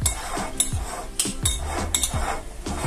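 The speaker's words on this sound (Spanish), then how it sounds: "mezclo ahí la salsa criolla" Metal utensils clink and scrape in a bowl while salsa criolla of lime juice, pepper, cilantro and olive oil is mixed, a quick irregular series of bright close knocks.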